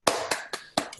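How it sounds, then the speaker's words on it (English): One person claps five sharp hand claps in a loose, uneven rhythm, each crisp and close. No voices are heard. "Amy's clapping over here"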